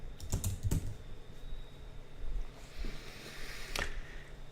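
Fingers type on a computer keyboard in a steady patter of soft clicks, with a couple of louder key strikes, close up and fairly quiet with no speech.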